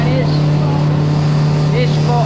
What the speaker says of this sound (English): This boat should not be in service. Listen to that. Very, very loud